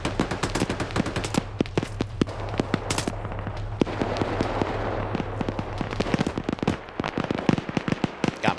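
Flashbang grenades go off in a military video game, a rapid string of sharp bangs and pops layered over constant crackling gunfire and a low battle rumble.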